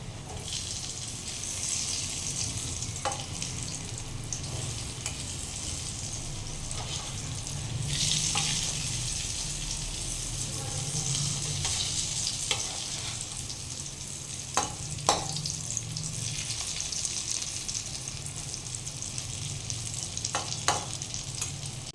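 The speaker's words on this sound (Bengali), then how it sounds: "অনেকটা এখানে ভাজা হয়ে গেছে আমি এবারে এটাকে উল্টে নিচ্ছি" Dhoka lentil cakes frying in hot oil give a steady, close sizzle for the whole stretch, with several sharp clinks and scrapes as the pieces are turned over.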